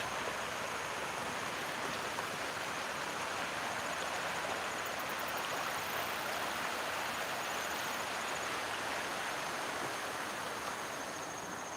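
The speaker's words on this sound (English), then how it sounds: "the rapids kind of goes along the river" Rapids on the Chattahoochee River, a steady broad rushing of water heard from a distance and quite faint, with no voices.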